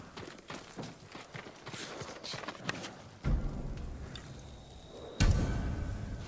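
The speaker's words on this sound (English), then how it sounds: "They're samurai horses." Samurai horse hooves clip-clop at a walking pace in Ghost of Tsushima, a steady run of close, crisp hoof strikes with heavier thuds breaking in near the end.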